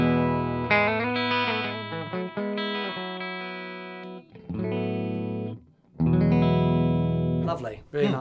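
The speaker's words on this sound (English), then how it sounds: "And the clean sound of that amplifier sounds like this." A clean electric guitar played through a Marshall JTM45 amplifier in a rehoused cabinet, ringing out sustained chords and phrases up close with a brief pause near the middle before more chords.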